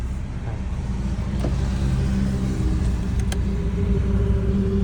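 A Mitsubishi Triton with a remapped 4D56 diesel engine rumbles steadily up close and builds slightly in revs, a low continuous drone with no voices.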